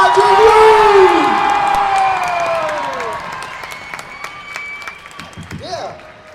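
Crowd at a fan convention actor panel in Toulouse cheers, whoops and applauds loudly, with shouts over steady clapping that gradually fades, while voices call out in the room.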